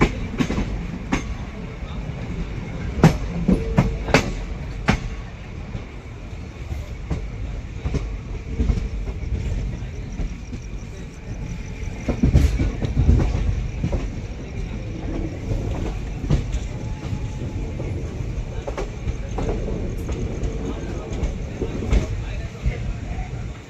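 The 11903 Jhansi Etawah Intercity Express runs on its tracks at night between Gwalior and Etawah, with a steady, loud rolling rumble punctuated by sharp wheel knocks and clatter over joints.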